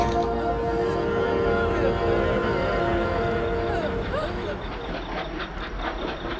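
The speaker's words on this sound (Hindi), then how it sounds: "ये ट्रेन अब तक मरी नहीं, फिर से चल पड़ी। पास आ रही है" A train starting up and drawing closer in a horror drama, a steady loud rumbling roar with hissing and tonal whines that swell and build, with no voices over it.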